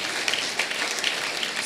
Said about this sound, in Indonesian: Kurang semangat tepuk tangannya